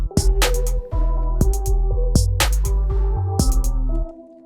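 A trap beat made in FL Studio plays loud and close: booming bass kicks, crisp snappy snares and hi-hats over a repeating melodic loop, ending abruptly.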